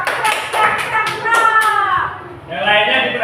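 Classroom applause for a student, a burst of hand claps with children's voices and chatter mixed in, fairly close and loud, settling then rising again briefly.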